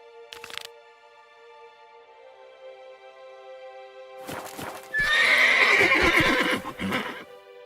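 Roach, the horse in The Witcher 3, gives a loud, close whinny lasting about two seconds amid hoof and game noise, after a faint earlier snort over a quiet tonal game background.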